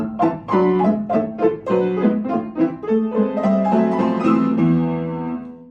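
A piano phrase from Grieg's Piano Concerto, first movement, played as a crescendo with the sustain pedal, its notes blending and ringing into one another before settling on a held chord that fades.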